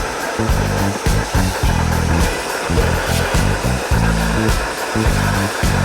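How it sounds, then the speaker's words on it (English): A loud, steady motorized whine runs throughout, with a low pulsing rhythm beneath as an extractor vacuum cleans an old station wagon's carpet back and forth, and a brief voice at the start. "then I'll try to extractor vacuum it out"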